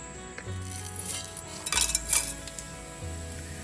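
Whole spices stirred in hot ghee and oil in a pan: soft metallic scrapes and clinks of a spoon against the pan, with a few louder clatters near the middle and a low hum underneath.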